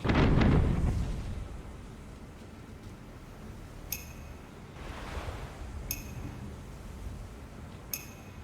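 Ship cannons fire in the pirate sailing game Tortuga: one heavy boom opens, then fades into a low rumble. Several fainter thuds and sharp metallic pings follow at roughly two-second intervals.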